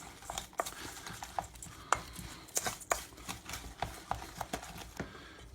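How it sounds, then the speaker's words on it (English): Zucchini pancake batter with garlic and eggs gets stirred in a bowl, a close series of rhythmic clacks and scrapes of utensil against the bowl, repeating quickly without talk. "we're just going to stir this all up"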